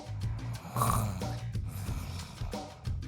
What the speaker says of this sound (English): Nice snore.